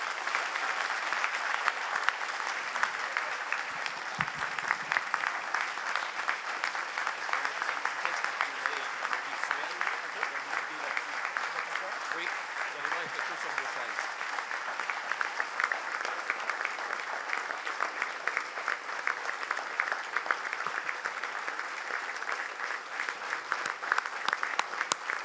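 Sustained audience applause fills a ceremony hall at an honorary doctorate presentation for the Cowboys Fringants, a dense, steady clatter of many hands that holds for the full length without letting up.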